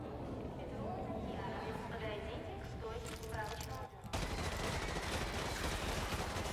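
Gunfire in Call of Duty: Modern Warfare 2 (2009): bursts of rapid shots under ongoing in-game noise, with people talking over it.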